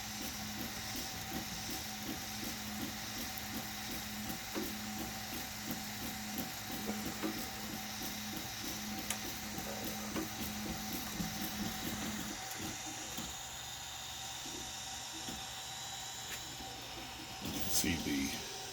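A dual-extrusion hot end 3D printer runs steadily, its stepper motors buzzing and whirring in a continuous rhythmic pattern, fairly quiet and close, with a brief louder rattle near the end.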